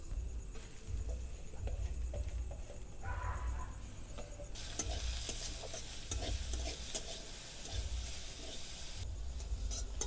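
Mixed vegetables for momo filling frying in a pan, with a continuous sizzle that swells louder partway through and frequent close scraping and clinking as they are stirred.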